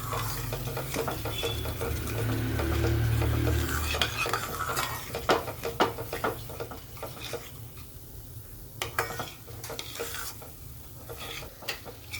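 Gram flour (besan) being stirred and roasted in a pan for dhaba-style paneer masala: a steady soft sizzle with repeated scraping and clinking of a spoon against the pan, close and continuous, with no talking.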